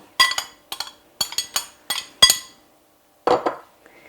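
A utensil clinks and scrapes against a bowl while hard cheese and green onion are stirred into a filling, a series of sharp, close taps in uneven clusters with short pauses between.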